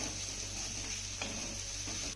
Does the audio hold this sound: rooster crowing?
no